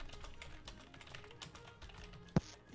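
Quiet typing on a computer keyboard, a loose scatter of faint key taps with one sharper clack near the end, close and without talk.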